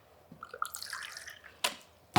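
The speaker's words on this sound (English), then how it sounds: "I am going to add a little bit of water in here," Water trickles and drips briefly into a thick glycolic acid gel, a short quiet pour followed by a couple of small splashy drops.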